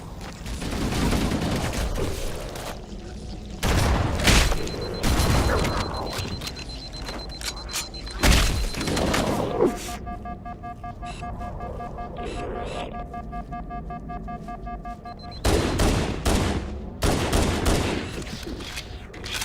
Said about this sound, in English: Just use the shotgun for this room.